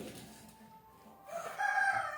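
Chicken calls from a rural yard where the hens are fed bran, a rising clucking cry of about a second that grows fairly loud near the end after quieter background noise.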